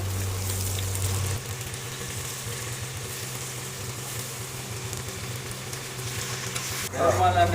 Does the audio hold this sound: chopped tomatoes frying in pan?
yes